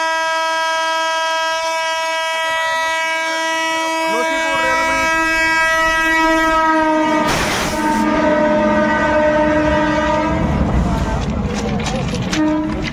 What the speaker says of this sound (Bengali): নসিপুর রেল ব্রিজ থেকে দ্রুত ইলেকট্রিক লোকোমোটিভ একদম চলে গেল আজিমগঞ্জ সাইড